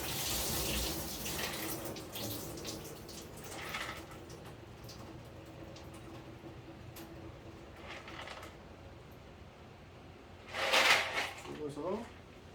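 Water splashes and runs while ceramic balls from a water filter are rinsed, a steady trickle broken by louder sloshing near the end. Someone speaks over it.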